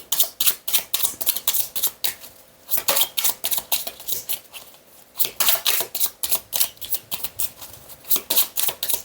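Oracle cards shuffled and laid out for a reading: rapid, crisp riffling flutters in repeated close bursts, with a brief lull before the shuffling resumes.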